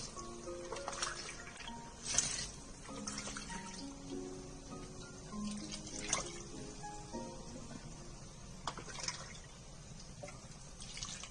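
Water trickles and splashes faintly into an Instant Pot for chicken biryani, with a few louder clinks, low and continuous throughout.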